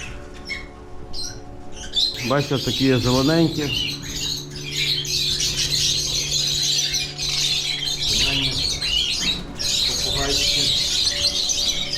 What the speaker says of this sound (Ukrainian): Красунчики, красунчики, бойові попугаї, бойові папуги.